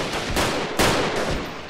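Gunfire in a first-person shooter game, a couple of loud, close shots in quick succession over a dense, noisy game background.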